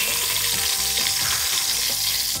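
Fresh butter and a little oil sizzle loudly in a pan with seared beef, a dense, close frying hiss with faint stirring rhythm running continuously.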